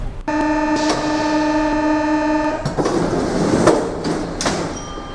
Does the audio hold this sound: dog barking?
no